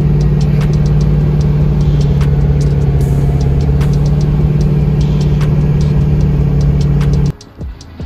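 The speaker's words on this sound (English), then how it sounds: "Now we are going to be driving it around." A Torqstorm-supercharged Pontiac G8 engine runs loud and steady from start to finish with a strong low drone, then cuts out abruptly near the end, leaving quieter background rumble.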